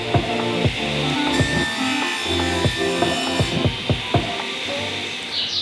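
Scrap walnut boards are worked on a table saw, with a steady motor hum under a series of repeated rhythmic knocks and scraping rasps, close by and without talking.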